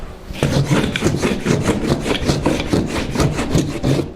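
A tool scrapes excess joint compound off drywall in about eight quick, loud, rhythmic back-and-forth strokes, close and raspy, with no talk over them.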